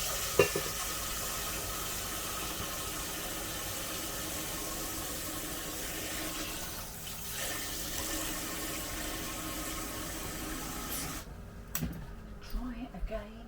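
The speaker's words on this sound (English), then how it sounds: "wash my hand" Tap water runs steadily while hands are washed at a kitchen sink, a constant close rushing that stops near the end, followed by a few light clatters.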